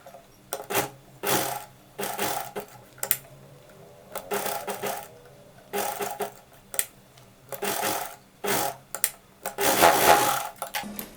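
A sewing machine stitches fabric for a child's Patiala dress in short, close, rattling bursts that start and stop repeatedly with brief pauses between them.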